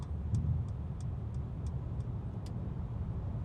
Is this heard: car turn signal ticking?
yes